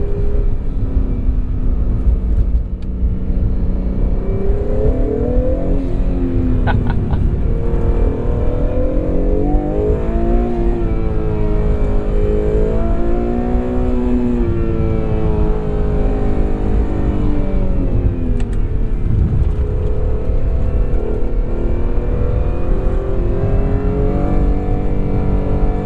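A 2022 Acura NSX Type S with a 3.5-liter twin-turbocharged V6 drives steadily, its engine note rising and falling through gear changes, loud and close with no talking.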